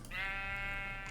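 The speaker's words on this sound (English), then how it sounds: "We may or may not move our sheep farm." A single sustained sheep bleat from livestock on a farm in a video game, clear and close, heard alone without talk.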